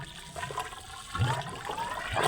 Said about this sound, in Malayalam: ഇത് കൂടെ വെള്ളം പോണ ശബ്ദമാണ് ഇപ്പോൾ കേട്ടത്